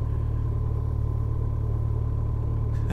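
Kawasaki ZZR1400 motorcycle engine labouring below 1,000 RPM, a steady low, loud rumbling drone that holds an even throb throughout with no talk over it.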